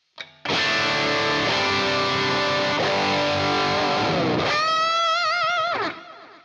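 An electric guitar played through a Quad Cortex with reverb mixed in, a loud sustained distorted chord ringing out, then bent notes with wavering pitch before fading.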